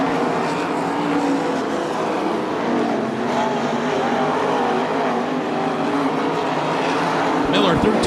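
305 sprint cars roar around the dirt oval at Attica Raceway Park during a heat race, a loud continuous engine drone with a car sweeping past near the end. An announcer talks over the noise.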